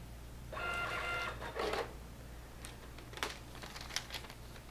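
Citizen CT-S851 thermal receipt printer running in Epson emulation mode: a short buzzing print burst, a paper-cut snap, then a few faint clicks against a quiet room hum.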